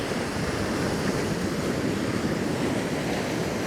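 Steady wind gusting on a rocky coastline where surf washes in during winter cod fishing on the North East shore, a continuous loud roar with no talk.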